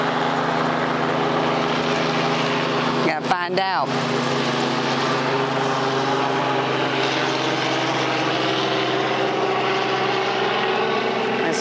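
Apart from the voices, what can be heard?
helicopter flying overhead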